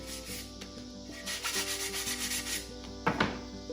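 Beveled wooden pieces for an octagon are sanded by hand, a close run of rhythmic scratchy rubbing strokes, quiet and alone, ending with a couple of sharper louder passes.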